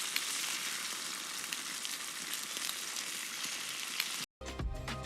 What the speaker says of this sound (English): feast your eyes with this sizzling steak